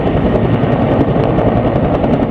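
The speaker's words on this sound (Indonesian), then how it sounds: "Wah, baling-balingnya juga berputar, teman-teman." A large Indonesian Kopassus military helicopter's rotor thumps in a fast, steady rhythm over a heavy engine roar, loud and near throughout.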